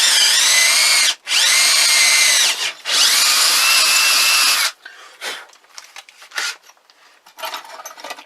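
A power drill bores a hole through a 1-inch thick piece of wood, with three long whining runs separated by brief pauses, loud and close, then scattered scraping and rubbing noises.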